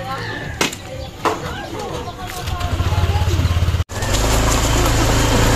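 A motorcycle engine idles close by, its low, steady throb growing louder and continuing to the end, with a brief gap and some earlier knocks and talk under it.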